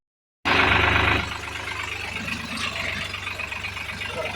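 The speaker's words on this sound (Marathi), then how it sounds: "आता आपण आपल्या ट्रॅक्टरला घेऊन आलोय बघा खाली करायला" A tractor engine runs while the tractor is being unloaded, starting with a loud burst of revving, then settling into a steady close-up low idle rumble.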